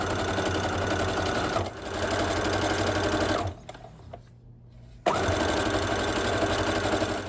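A sewing machine stitches the top two rows of a pieced quilt coaster together, its fast motor whir running steadily, pausing briefly, then resuming loud and close with no one speaking.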